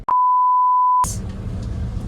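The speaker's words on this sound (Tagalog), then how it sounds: "The warnings on the bus come beep, beep, beep, beep, beep, beep." A bus warning beep sounds as one loud, steady tone lasting about a second, then cuts to a rumbling background of road noise.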